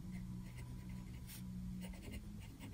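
A fountain pen with a medium nib scratches quietly across paper in short, repeated strokes, faint over a low hum of room noise.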